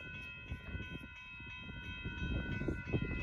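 A northbound Amtrak Texas Eagle 22 passenger train approaches a road crossing on Dittmar Road in Austin, Texas, a steady rolling rumble with sustained high ringing tones that build slightly louder toward the end.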